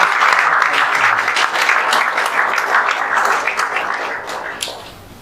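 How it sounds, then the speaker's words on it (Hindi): Loud, steady applause from an audience honouring top JEE Main 2024 results, dense clapping sustained throughout and tapering slightly toward the end, with no talk over it. "और एक बार जोरदार तालियां।"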